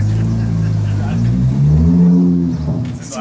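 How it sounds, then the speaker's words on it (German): A loud car accelerates and passes close by on a city street, its engine rising in a strong revving drone before fading slightly, with a voice audible over it. "Das sind immer so laute Autos."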